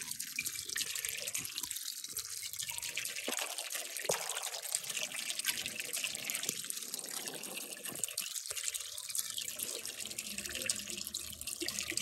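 Water runs in a steady rushing trickle as flow begins into a garden water system after draining out junk, a constant close wash of liquid with no voices.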